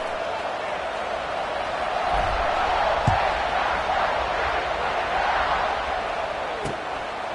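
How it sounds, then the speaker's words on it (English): A stadium crowd at a football game, just after a score, makes a steady, dense roar that swells slightly midway and holds, with a couple of faint thumps. "this crowd is buzzing after that last score"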